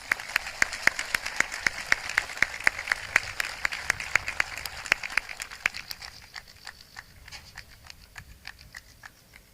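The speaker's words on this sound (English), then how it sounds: "Please give them a round of applause." Audience applause at a community Hometown Heroes celebration event, a steady patter of many hands clapping that is fairly loud at first and thins out toward the end, with no talk over it.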